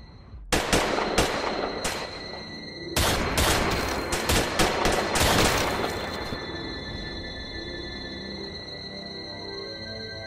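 Gunfire in a short crime film: a burst of sharp, loud shots in quick succession, a pause, then a second rapid volley of cracks that trails into a lingering ringing tail, with no talking.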